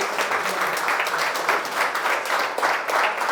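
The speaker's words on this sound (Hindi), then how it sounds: "एक बार केदार कश्यप जी के लिए जोरदार ताली बजाइए" A studio audience in a TV newsroom applauds a guest politician with loud, dense, continuous clapping that pulses slightly across the whole span.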